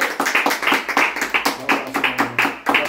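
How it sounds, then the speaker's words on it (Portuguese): A congregation at a home worship service in a favela claps hands in a steady, rhythmic beat, with sharp, regular claps close by and a faint voice underneath. "Bate palmas para a poder do teu sangue."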